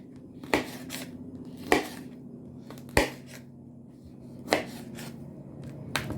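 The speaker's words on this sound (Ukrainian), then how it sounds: "Ось і перерізала я всі баклажани, перці солодкі" A knife chops through eggplant and sweet peppers on a board, five sharp separate knocks spaced about a second or so apart over quiet kitchen background.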